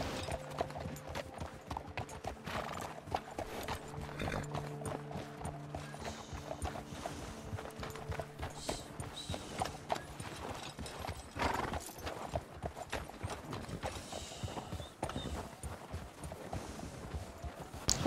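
Horse hooves clip-clop at a steady trot on a trail ride in Red Dead Redemption 2, close and continuous, with occasional neighs and soft harness jingles over ambient game sound.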